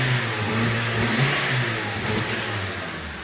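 A Honda Civic engine revs close by with a steady mid-range drone that swells and sags unevenly, its acceleration stumbling and hesitating rather than climbing smoothly, with no voices.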